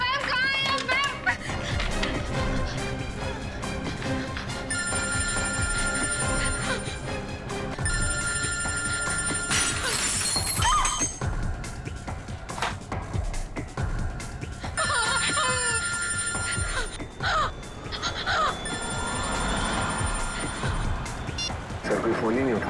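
A telephone rings in repeated bursts, each a few seconds long, while voices and other busy background sounds carry on around it.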